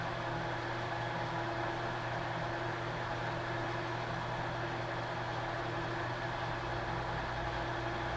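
An Alzmetall drill press running with its power feed engaged at the fastest feed setting gives a steady, moderately quiet motor hum with constant tonal drone and broadband whir, unchanging throughout, with no talking.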